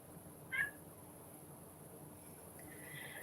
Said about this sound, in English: my cat's trying to get onto her cat tower